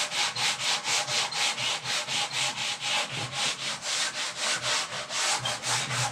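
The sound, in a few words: sanding a wooden gun stock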